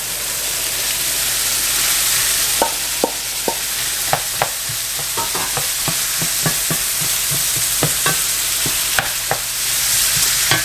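Ground beef fries in a pan with chopped onions and green peppers, a steady close sizzle broken by repeated sharp scrapes and taps of a spatula stirring against the pan.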